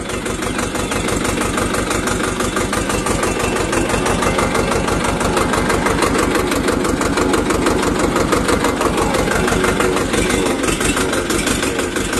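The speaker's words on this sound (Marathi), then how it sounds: "आजची ही ट्रॅक्टर राईड विशेष आहे की तुम्हाला ट्रॅक्टरवरून मी माझं क्षेत्र दाखवतो आहे" A tractor engine runs on a farm ride, with a loud, close, even chugging pulse that carries on without a break and has no voices over it.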